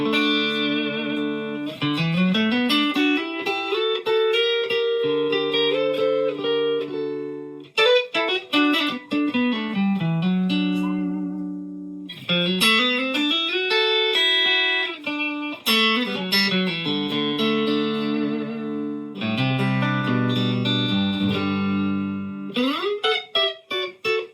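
Clean electric guitar tone from an Ellis TX2 on the neck pickup through a Fender Deluxe amp, playing warm, rounded chords and arpeggiated phrases, steady and close, with gentle sustain and no distortion.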